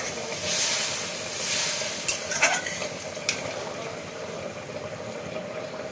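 Water poured into a pan of fried spices for a Bengali ridge gourd and prawn curry, giving a soft hiss and sizzle with a few sharp splashes and stirring clatters, close by.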